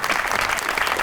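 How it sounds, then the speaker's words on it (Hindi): A studio audience at a comedy talk show breaks into applause, a thick, even wash of clapping hands close and loud throughout, with no voices over it. "दोनों के लिए ताली होनी चाहिए।"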